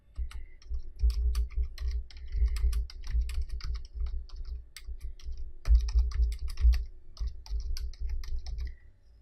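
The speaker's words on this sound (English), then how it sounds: "I'm going to type in here, talk to Janelle and Ashley." Fingers type a message on a computer keyboard, with a steady stream of quick clicking keystrokes and a couple of short pauses, close and clear with no talk.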